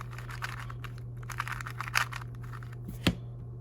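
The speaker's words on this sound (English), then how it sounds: "not the best time I've gotten solving Rubik's Cube, not the worst" A magnetic Rubik's Cube is turned during a solve, giving quick, light clicking and clacking in irregular bursts over a steady low hum, close up, ending with one sharper snap.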